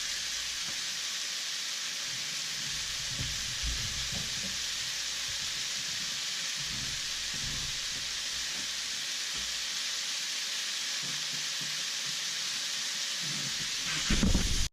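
Venison fajita meat with onions and mushrooms sizzles steadily in a pan, a continuous close hiss of frying that runs unbroken throughout.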